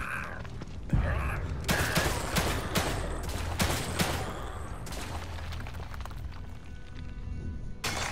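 Gunfire in The Evil Within 2, with a run of sharp shots spread through the early seconds, then quieter mechanical creaks and rattles beneath faint room tone.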